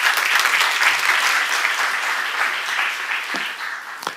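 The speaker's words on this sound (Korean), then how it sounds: "깨달은 사람은 박수 쳐봐" An audience at a church seminar claps together, a dense burst of applause that holds steady and then thins into a few scattered final claps.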